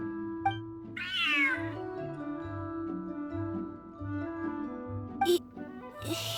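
A cat meows in a video game, a drawn-out, bending meow near the start, set over a steady, looping musical background, with a couple of short chirpy game sound effects later.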